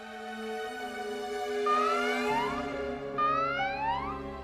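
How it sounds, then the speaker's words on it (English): An alarm siren in the video game Valkyria Chronicles 4 wails in repeated rising sweeps over steady tones, sounding moderately loud and continuous throughout. "That's the alarm."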